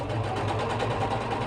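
A sewing machine stitches down scrap fabric in a short, loud, continuous whirring burst close by, with no talking.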